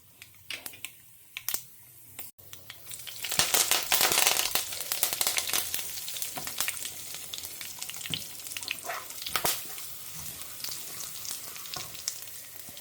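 Spices are tempered in hot oil in a home kitchen for sambar. A few sharp pops open into a dense, crackling sizzle, heard close and loud and continuing with scattered spits and stirring.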